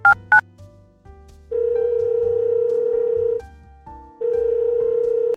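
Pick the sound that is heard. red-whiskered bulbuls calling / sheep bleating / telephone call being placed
telephone call being placed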